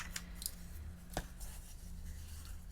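Scissors snip through Stampin' Up designer series paper for a table favour box, a few quiet, crisp cuts spaced irregularly close to the listener, with no speech over them.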